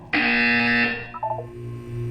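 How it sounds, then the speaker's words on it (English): A loud, harsh electronic buzzer sounds in Portal 2, one sustained blast of about a second that cuts off sharply, followed by a few short electronic blips over a low ambient hum. "When you hear the buzzer, look down at the floor."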